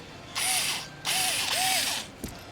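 Ratcheting clicks from a Craftsman flexible shaft tool turning a screw on the air mix motor of a 2005-2006 Honda CR-V, two loud close bursts of rapid clicking with a short pause between, then a single faint tick.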